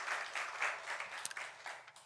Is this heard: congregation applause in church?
yes